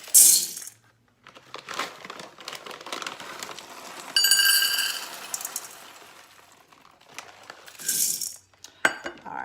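Dry beans rattle and clink as they are poured and measured into cups, with bursts of hard pattering around the middle and near the end between quieter handling noises.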